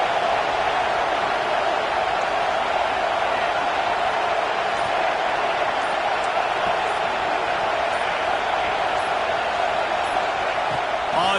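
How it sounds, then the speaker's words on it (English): Dense, roaring stadium crowd noise at a football game, a steady loud wall of cheering that holds unbroken from start to finish with no pauses. "Listen to this crowd just shaking the girders of this place"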